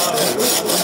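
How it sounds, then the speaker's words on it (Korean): A Teflon-coated straight-bladed handsaw with a quick-change blade cuts through wood at an agricultural machinery expo, making a brief burst of loud, close rasping strokes in quick succession. "이 톱 같은 경우는 이제 원터치 방식으로 쉽게 교환도 가능하고 똑같이 테프론 코팅이 되어 있습니다"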